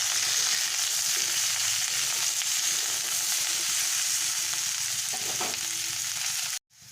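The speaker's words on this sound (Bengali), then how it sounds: "আমি আলুটার সঙ্গে ভেজে নেব। দিয়ে ভালো করে আমি আলুর সঙ্গে মিশিয়ে নিচ্ছি।" Potatoes sizzle steadily in hot oil in a pan as they are fried and stirred, with a loud, continuous crackle and a few soft scrapes before the sound cuts off abruptly near the end.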